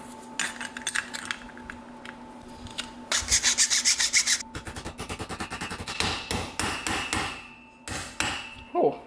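Rapid metallic hammer blows ring out in quick bursts, close and sharp, fitting a part onto a homemade internal combustion engine built from an old compressor, with a faint steady hum in the background.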